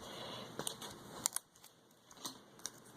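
Scissors snip through a paper sheet of butterflies, giving a few quiet, sparse close clicks and cuts spread across a near-silent room.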